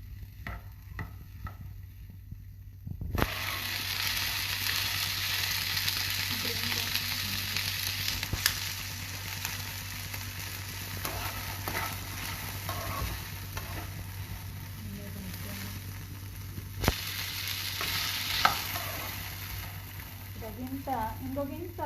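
Chickpeas frying in a pan during a live cooking session, a steady loud sizzle with occasional stirring scrapes running nearly the whole time after a quieter start, with brief speech in the background.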